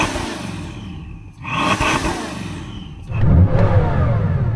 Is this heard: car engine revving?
yes